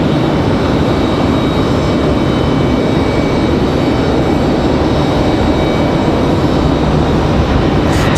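Icelandair airliner jet engines roaring at Raleigh-Durham airport, a loud, steady, broadband rumble and whine that holds constant and close throughout without any voices.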